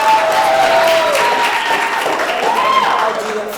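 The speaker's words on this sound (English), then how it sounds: "let's give everybody one more round of applause" An audience applauds at a school spoken word event, producing a sustained even wash of clapping with crowd noise and some voices mixed in.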